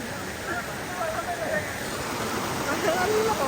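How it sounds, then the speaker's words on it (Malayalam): Water from an opened dam rushes in a continuous, loud roar of broadband turbulence that stays steady throughout, with no talking. "വെള്ളം വരുന്നുണ്ട്."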